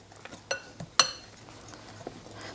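A utensil mixes unniyappam batter in a bowl, giving a few soft clinks and taps against the bowl with quiet stirring between them.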